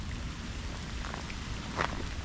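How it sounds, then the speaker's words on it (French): Steady rain pours down during a thunderstorm at a flooded gravel pit after hail has stopped, a dense continuous patter with a few sharper drops, close and moderately loud with no talking. "il grêle plus mais toujours de la pluie"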